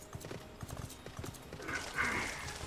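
Horse hooves clip-clop steadily in Final Fantasy 14, a brisk, close run of hoofbeats that swells near the end with a brighter, whinny-like cry.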